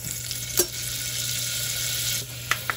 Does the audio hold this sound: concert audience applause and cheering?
no